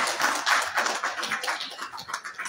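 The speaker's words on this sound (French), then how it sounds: "on peut l'applaudir effectivement" An audience at a business conference panel on vocational training and employability applauds; dense, steady clapping fills the room for a couple of seconds, fairly close and without talk.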